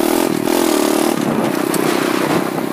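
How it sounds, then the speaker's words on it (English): A stock pit bike engine revs hard and close, its loud raspy buzz rising and falling for a few seconds with no talk. "I haven't heard a bike sound this good in a while."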